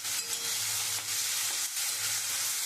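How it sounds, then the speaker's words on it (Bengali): Chopped onion frying in oil with bay leaf, dried chilli and whole garam masala for a prawn malai curry, a steady broadband sizzle with faint stirring, close and even throughout, no talk. "আমি একটু পেঁয়াজটা একটু লাল লাল করে ভেজে নেব।"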